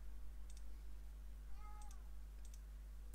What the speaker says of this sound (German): Ach, Katze.